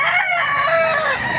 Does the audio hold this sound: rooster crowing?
yes